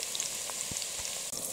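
Pork cracklings fry in a pan, giving a steady dense sizzle with crackles and soft pops. It is close and continuous, and no one talks over it.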